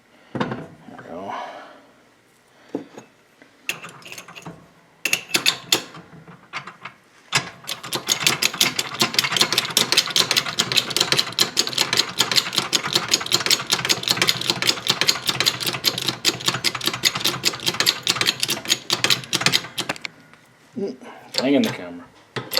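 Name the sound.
socket wrench ratcheting on VW Buggy front beam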